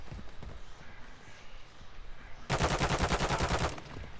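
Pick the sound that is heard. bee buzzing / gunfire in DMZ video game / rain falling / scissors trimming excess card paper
gunfire in DMZ video game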